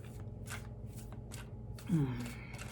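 Playing cards are shuffled in quick, crisp riffles and bursts close by, with a soft brief vocal sound near the end.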